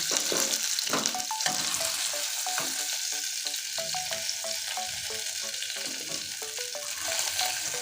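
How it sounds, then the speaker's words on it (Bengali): Fish heads fry in a pan with a continuous bright sizzle, punctuated by repeated light clinks and scrapes from stirring. "এবার দেখুন মাছের মাথাগুলো ভেজে নিয়েছি"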